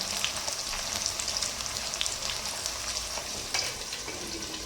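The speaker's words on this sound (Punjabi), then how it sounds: "ਆਪਾਂ ਪਿਆਜ਼ਾਂ ਨੂੰ ਚੰਗੀ ਤਰ੍ਹਾਂ ਭੁੰਨ ਲਈਏ ਜੀ" Onions fry in a pan for a vegetable curry, a steady close sizzle with crackles and faint spoon scrapes, no voices.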